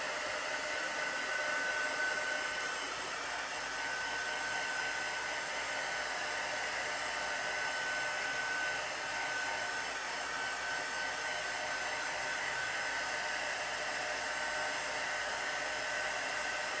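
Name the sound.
drying chalk paste on a flag to set it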